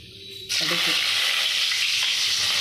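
Mustard seeds drop into hot oil for tempering a Salem-style fish gravy, bursting into a loud, sustained, close sizzle after a quiet moment with faint speech in the background.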